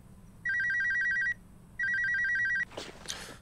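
A telephone in a video game rings twice, each electronic trill lasting close to a second, with a short pause between them. After the second ring there is brief soft noise and no speech.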